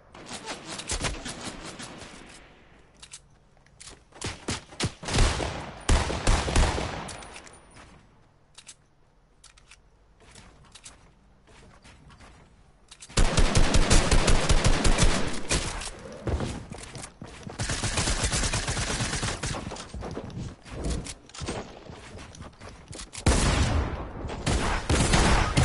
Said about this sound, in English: I'm getting shot at, Mason.